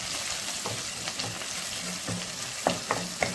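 Chopped green chillies fry with onion and capsicum for a gravy chilli chicken, a soft, quiet sizzle punctuated by a few sharp scraping stir strokes toward the end.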